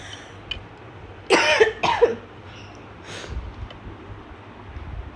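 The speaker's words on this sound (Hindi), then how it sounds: "मेरी तबीयत ठीक नहीं है, मेरे को खांसी हो गई है" A woman who is unwell with a cough coughs twice in quick succession, close and sharp, followed by a softer breathy sound against quiet background noise.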